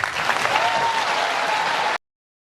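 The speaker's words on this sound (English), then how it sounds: "hear all those trained SEALs in the audience applauding while this person advocates killing babies at 38 weeks" A studio audience breaks into dense, sustained clapping that holds steady for about two seconds before cutting off abruptly.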